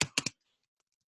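Three quick, crisp clicks of keys pressed on a computer keyboard for a shortcut in a graphics program, close and distinct, followed by near silence with a few faint ticks.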